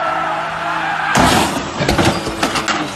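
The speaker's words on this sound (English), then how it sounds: "So that was a pretty serious crash there." A car crash in a parking lot, where a steady engine hum breaks into a loud sudden impact, followed by scraping, rattling debris and skidding noise.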